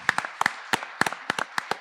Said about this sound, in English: I want to get a clap for that.